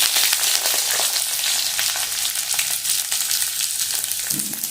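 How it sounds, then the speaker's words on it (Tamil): Onions frying in hot oil with curry leaves and green chillies for a broad bean avial, a steady bright sizzle and crackle, close and continuous with occasional stirring. "கறிவேப்பிலை, பச்சை மிளகாய், அப்புறமா இந்த வெங்காயத்தை போடணும்."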